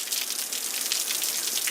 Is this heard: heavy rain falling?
yes